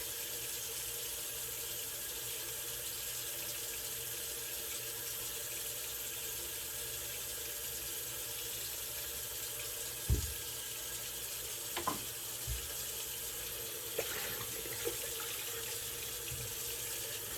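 Tap water runs in a steady continuous stream while a shaving brush is rinsed under it, with a few faint knocks and clicks partway through and no talking.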